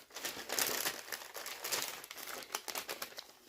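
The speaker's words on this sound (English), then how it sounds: "I'm making enough noise with the paper as it is" Gift paper crinkles and rustles continuously as a Christmas package holding linen for cross-stitch is unwrapped, loud and close with a few sharper crackles and no voices.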